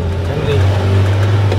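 A Mahindra Thar's engine drones low and steady as it climbs a sand slope, a loud close rumble holding a deep tone that lifts slightly partway through, with faint talk over it.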